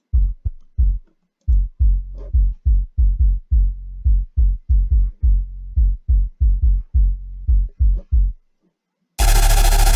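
A Sytrus sub bass with an FX mix modulated plays a riddim pattern of loud, deep pulsing hits in steady rhythm, pausing briefly before ending in a sudden dense, noisy blast.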